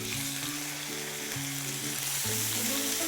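Rolled sole fillets frying in hot olive oil in a pan give a steady, loud sizzle and crackle that runs the whole time, while low tonal music plays underneath.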